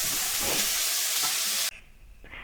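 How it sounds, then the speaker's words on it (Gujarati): Onions and garlic with salt fry in a pan for lasooni palak, a loud, dense sizzling hiss that cuts off abruptly, leaving quieter faint stirring. "હવે આપણે ડુંગળીની અંદર થોડું મીઠું નાખીને ડુંગળી થોડી બ્રાઉન કલરની થાય ત્યાં સુધી આપણે ડુંગળીને ચડવા દઈશું સારી રીતે"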